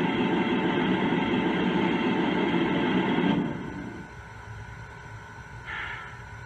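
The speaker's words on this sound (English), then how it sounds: "Do you have the steam blowdown sound effect?" A Lionel Legacy T1 model steam locomotive gives a loud, steady steam blowdown hiss lasting about three seconds, then drops to a softer hissing rumble with a brief brighter burst near the end.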